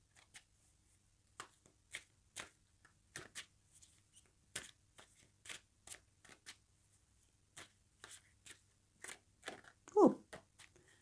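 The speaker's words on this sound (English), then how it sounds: "Give these a good shuffle." A Rider-Waite tarot deck being shuffled by hand, a series of soft crisp riffles and card slaps in an irregular rhythm, close and fairly quiet, with a brief voice near the end.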